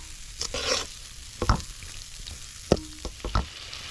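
Lemon pickle masala is stirred in a pan on a low flame, a soft continuous sizzle punctuated by several distinct scrapes and knocks of a spoon against the pan, close and clear.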